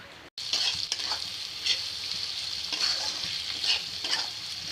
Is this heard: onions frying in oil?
yes